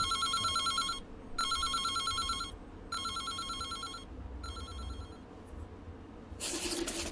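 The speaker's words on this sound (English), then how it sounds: "The phone rings, cutting her off." An old-style telephone bell rings in the video game Reverse 1999: four bright trilling rings separated by short pauses, fairly loud over a low background hum, with a harsher burst at the end.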